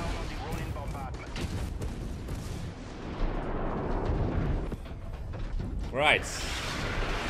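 Distant artillery bombardment in the MechWarrior 5 video game, a steady rumbling barrage of booms under broadband battle noise, with a louder burst near the end and a short spoken remark over it.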